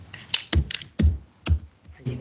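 Computer keyboard keys are pressed in a handful of sharp, separate taps and clicks spaced about half a second apart, close and fairly loud, with a speaker's voice mixed in.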